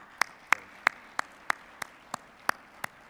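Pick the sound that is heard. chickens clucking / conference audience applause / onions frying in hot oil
conference audience applause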